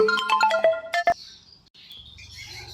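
A mobile phone ringtone plays a quick melodic run of bright electronic tones, loud and close, then cuts off and leaves faint background noise.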